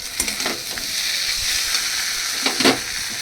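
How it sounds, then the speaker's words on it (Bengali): Hot water poured into a pan of frying ridge gourd sets off a loud, steady sizzle with a few sharp spatters and stirring scrapes, close and continuous, with no voices. "এবার আমি এর মধ্যে দিয়ে দিচ্ছি জল।"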